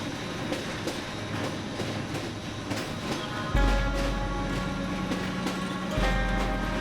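Passenger train rolling along the rails, a steady rumbling ride with rhythmic clickety-clack wheel beats and two sudden heavy low surges, heard from inside the carriage.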